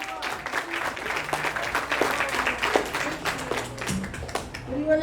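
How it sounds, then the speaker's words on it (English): Guests at a 60th birthday party give a round of applause, uneven clapping mixed with crowd chatter and voices in a room, moderately loud throughout. "round of applause, please."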